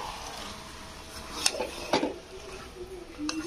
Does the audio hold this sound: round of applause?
no